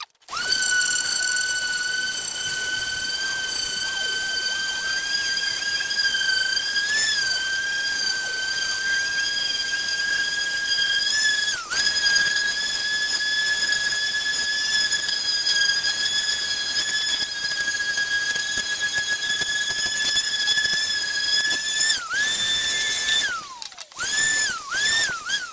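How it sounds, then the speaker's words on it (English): Electric sander working a wooden skateboard deck, giving a steady, loud high-pitched whine that runs continuously for over twenty seconds with slight pitch wobbles, then winds down and cuts off near the end. "Now this bit does get a bit dull because I've basically got to sand it."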